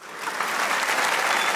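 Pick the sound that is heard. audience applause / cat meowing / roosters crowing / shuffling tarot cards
audience applause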